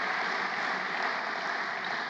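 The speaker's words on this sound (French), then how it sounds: "Vous les applaudissez, donc." Audience applauding at a business conference opening address, a steady, even wash of clapping heard from a distance and fairly soft, sustained throughout without individual claps standing out.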